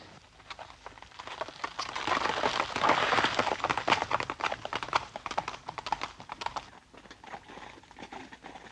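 Hooves of a carriage horse clip-clop steadily in a 1956 period film scene, a close rhythmic trotting patter that swells in the middle and then eases slightly, with no talk over it.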